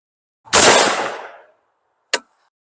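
A single rifle shot on a shooting range, fired with a Hawke Vantage 1-4x24 LPVO scope, a sharp close blast decaying over about a second, then a short crack of the distant impact or echo.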